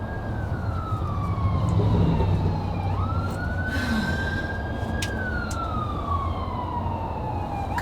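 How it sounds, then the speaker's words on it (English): A police car siren wails as the car drives by, its tone sweeping down and then rising again, moderately distant and steady over background traffic rumble. "Cops are driving by, but nobody's pulling over to check up on us."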